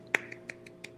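A handful of soft, sparse golf claps given as a mock tribute, about five light, evenly spaced pats in a quiet room with no talking.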